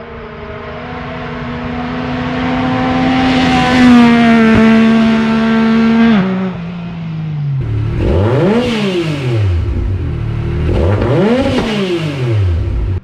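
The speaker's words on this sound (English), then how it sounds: "it kind of sounds like a crotch rocket the way it revs so high" A Yamaha YXZ 1000R Sport Shift side-by-side revs its engine loud and close toward 9,000–10,000 RPM, pitch climbing and dropping through manual shifts, then several sharp rising-and-falling rev bursts.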